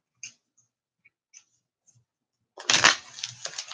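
Playing cards shuffled by hand during a tabletop card game: a short, papery riffling burst near the end after a quiet stretch with a few faint taps and clicks.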